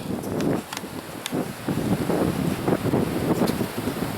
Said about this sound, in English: And the surf's up.